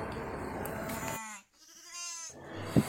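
Sheep bleating during lambing: a single close, wavering bleat stands out after a stretch of background noise, followed by a brief knock near the end.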